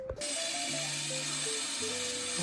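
A drill grinds steadily into a steel RSJ beam after a brief start, a constant whirring, high-pitched drone close by with no voices.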